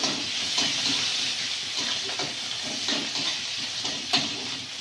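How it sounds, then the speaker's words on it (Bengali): Chopped onions fry in oil with five-spice tempering, giving a continuous close hiss with faint soft spatters and no talking. "পেঁয়াজটা ভাজা ভাজা করে নিন"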